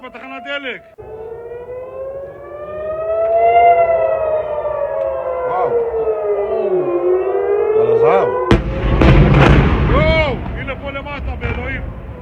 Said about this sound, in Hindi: पहले सायरन की आवाज आती है और उसके बाद रॉकेट की आवाज आती है